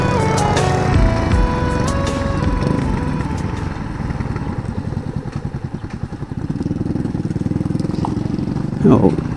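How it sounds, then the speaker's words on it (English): A Yamaha MT-15 and a Yamaha FZ250 motorcycle ride together on a road, their engines humming and pulsing steadily up close while someone talks over them for most of the stretch. "Paul is riding my bike MT-15 and I'm riding Raj FZ250."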